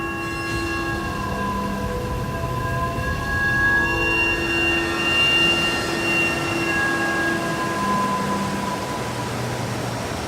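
Rhaetian Railway train running on the Albula/Bernina mountain line, a continuous rumble of rolling wheels with sustained squealing, ringing tones from the rails, steady and fairly close with no voices.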